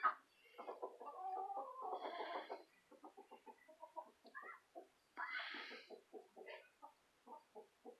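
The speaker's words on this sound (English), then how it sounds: "The chicken is plucking it. The chicken got it. Chicken stole her lizard." Chicken clucking in repeated short bursts while eating a lizard, close and fairly quiet, with brief pauses between clucking runs.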